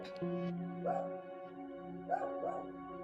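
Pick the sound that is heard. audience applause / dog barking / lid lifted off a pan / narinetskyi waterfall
dog barking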